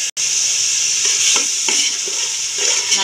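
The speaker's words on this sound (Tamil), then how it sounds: "வெங்காயம் நல்லா வதங்கட்டும்." Onions and tomato sautéing in a pan for fish biryani, a loud continuous sizzle with repeated soft scraping strokes of a spoon stirring through it.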